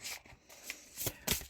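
A deck of tarot cards being shuffled at close range, with soft riffling bursts and a few sharper flicks of the cards alone, no voices.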